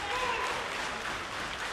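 An indie wrestling crowd applauds and cheers in a steady, moderately distant wash of clapping, with faint voices mixed in underneath.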